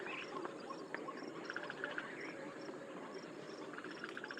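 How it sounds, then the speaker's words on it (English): Frogs call in a dense, faint chorus mixed with insect chirring, with occasional brief bird notes over a steady outdoor background in India. "in the background you can hear the call of frogs"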